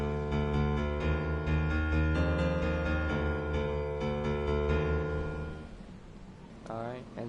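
Fortnite music blocks playing the intro of a song, a rich, buzzy synth-like melody with steady repeating notes and sustained tones for about six seconds, then fading into a muffled, noisy tail.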